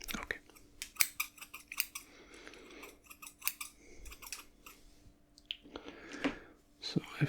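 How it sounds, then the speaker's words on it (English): Scissors snipping hair at a close, intimate distance: many rapid, crisp snips in irregular bursts, soft and near, with faint rustling and handling noise between cuts and no speech. "Else I will just snip your hair."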